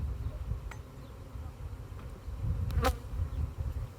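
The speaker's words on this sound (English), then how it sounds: "That's why it's important I knock those bees off." Low honeybee buzzing drones steadily throughout, close by at an opened hive, with a brief louder buzz passing near the end.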